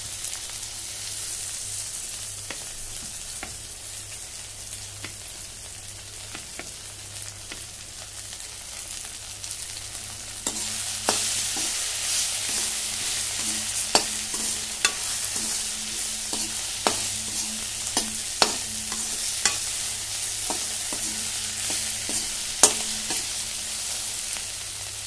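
Ground spices, turmeric, Kashmiri red chilli powder, cumin and slit green chillies sizzle in hot oil for a Katla fish-head curry, with a steady fry that grows louder midway and repeated scraping strokes of a spoon stirring the pan.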